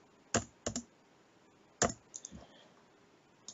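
A computer keyboard being typed on in short, sparse bursts: a few crisp, close key clicks separated by quiet pauses.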